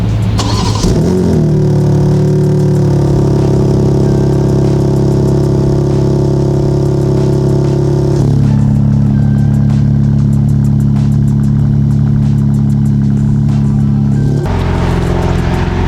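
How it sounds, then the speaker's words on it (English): A BMW G80 M3 with stock exhaust cranks and fires up on a cold start, then settles into a loud, steady idle with a deep drone, shifting pitch partway through as it revs down. "I can give you guys an actual cold start of how this car sounds"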